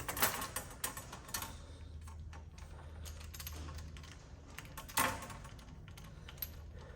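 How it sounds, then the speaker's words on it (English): A pipe cutter is turned around a line, cutting it to length for a DIY air-suspension slam kit, giving a steady run of close, rapid clicking and scraping ticks with a louder snap near the end. "So I'm gonna go ahead and cut this to the length that I wanted it."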